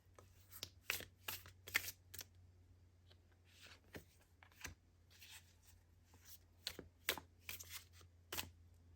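A deck of tarot cards is shuffled close up in a quiet room, crisp riffling bursts and soft card slaps repeating in irregular clusters over a low steady hum.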